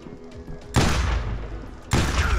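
Shotgun blasts in a video game, two loud booming shots about a second apart, each with a long rumbling decay, close and dominant over quieter background game noise.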